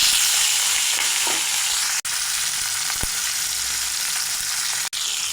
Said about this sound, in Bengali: এখন মাছের মাথা ভেজে নেব, দিয়ে দেব সর্ষের তেল